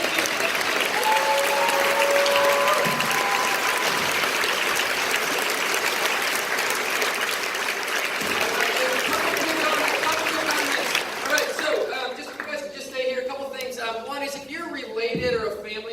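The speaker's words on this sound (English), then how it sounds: "Let's give them a round of applause." An audience at a Fargo Living Legends Day event breaks into a long, steady round of dense applause that fades and thins toward the end, when a few voices begin talking.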